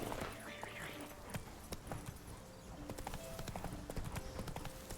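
Roach the horse gallops in The Witcher 3, with rapid, even hoofbeats thudding close under a low game ambience and a faint whinny near the start.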